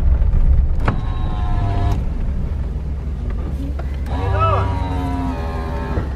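An old van drives along after repair work, its engine and road rumble a steady low drone throughout, with faint whining tones and brief knocks over it, while a voice speaks briefly.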